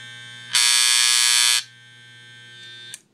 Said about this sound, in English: pretty much you turn on your clipper. Like it should make like this kind of noise